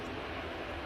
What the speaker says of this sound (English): Got a Ryanair landing